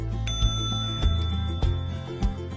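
Bell on a Schwinn hybrid bike rings four times in a steady rhythm, each sharp bright ding followed by a long metallic ring, close up and loud, no voices.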